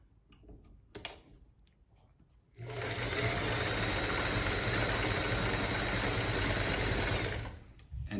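An electric sewing machine stitches a pattern into cloth for custom clothing, a close, steady whirring hum running for about five seconds after a couple of faint clicks and a quiet start.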